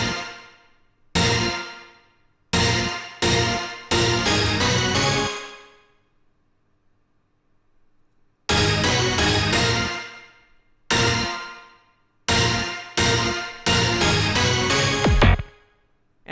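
Layered orchestra hit samples stacked with a saw synth layer, reverb tail, drums and bass in a drum and bass style: loud, punchy stabs in short rhythmic bursts separated by silence, repeated in two phrases.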